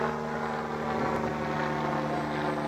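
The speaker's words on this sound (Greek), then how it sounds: "Πάει και το ελικόπτερο που θα τους πάρει." A helicopter passes overhead with a steady droning engine and rotor hum, loud and continuous through the short stretch.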